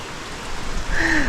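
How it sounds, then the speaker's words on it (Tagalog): Rain starting to fall outdoors at Campanalig, a soft wash of drops that swells louder toward the end, with a brief higher whine over it. "Umulan na."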